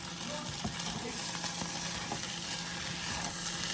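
Pork stir fry sizzling in a pan, a steady moderate crackle and hiss with faint scraping, continuous throughout with no talking.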